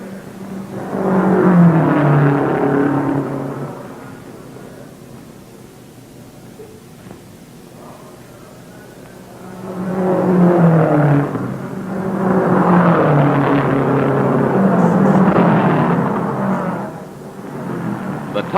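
A racing car driven by Holland at a pit stop, engine droning and whirring loudly, easing off in the middle, then rising again as the car pulls away, with a voice talking over it.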